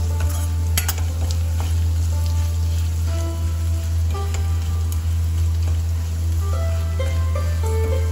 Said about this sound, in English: So it's 3 whole red chilies. Stir it up to make it golden brown.